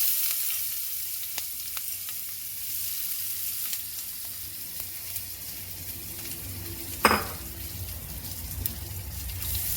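Chopped onion and cumin seeds fry in a pan, with bay leaf in the oil. A continuous close sizzle carries soft crackles and one sharp utensil clink midway, and no voices are heard.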